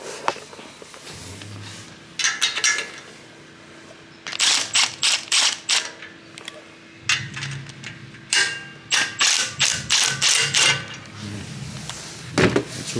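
An impact gun zaps nuts off a Honda Civic EK, sounding as several short, loud rattling bursts in clusters, mixed with clicks and handling clatter.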